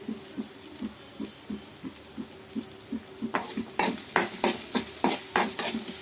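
Food fries in a pan until golden brown: a steady sizzle under rhythmic stirring taps that grow louder and more frequent, ending in a regular series of sharp scraping strokes.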